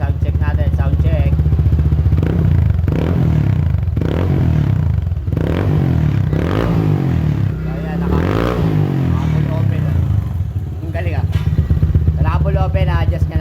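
A motorcycle fitted with a rainbow-tip exhaust idles with a throaty, pulsing rumble and a few blips of the throttle, close and loud, with people talking over it.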